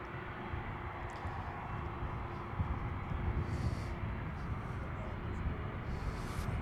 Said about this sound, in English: Air Force One is off there, taxiing in from the eastern end of the runway now